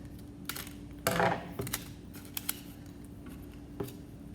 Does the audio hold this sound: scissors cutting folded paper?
yes